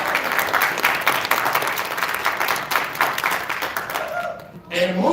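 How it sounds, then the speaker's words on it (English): Audience applause for a keynote speaker at a Detroit China Day event, steady dense clapping filling the room for several seconds, then thinning out as a voice begins speaking near the end. "give another round of applause"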